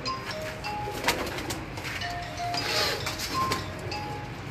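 Racing pigeons at a loft make faint cooing and chirping calls over a steady outdoor background, joined by occasional brief clinks and a few thin whistled tones.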